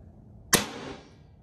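An Excalibur Assassin 400 TD crossbow fires a single sharp, loud crack followed by a brief ringing decay, close and isolated.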